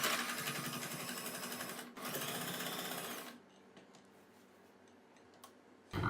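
A sewing machine top-stitches the neckline of a kurti, its rapid ticking needle running loud and steady, pausing briefly, resuming, then dropping to a quieter hum.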